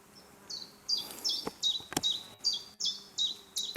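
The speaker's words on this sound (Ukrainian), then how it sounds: "пташка якась там." A small bird chirps in a mountain beech forest, repeated sharp high tweets in a regular rhythm, fairly near and clear against a quiet background with a few faint clicks.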